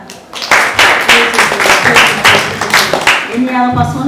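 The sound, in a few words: children clapping for a classmate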